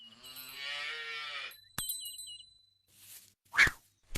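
A cartoon cow gives a long, drawn-out moo. Short metallic dings and clangs follow, then a brief noisy burst, with quiet gaps between them.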